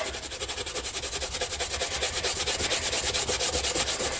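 A rag rubs lacquer thinner over ABS motorcycle plastic to strip spray paint, making a steady, close scrubbing hiss in quick back-and-forth strokes with no talking.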